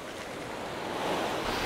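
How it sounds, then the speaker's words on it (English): Ocean waves breaking on a beach and running back down the sand, a steady hissing wash of surf that swells slightly louder near the end, close and without voices. "the water, a larger wave, to break and then run back down the beach"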